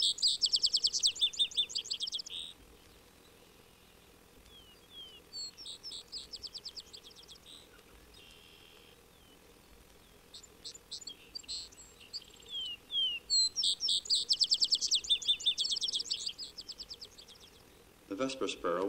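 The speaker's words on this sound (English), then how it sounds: "gives over to the vesper sparrow that does his finest singing in the twilight." Vesper sparrow song at twilight: repeated bursts of bright, trilling phrases coming in several bouts, moderately close and clear over a quiet background with faint insect-like hiss.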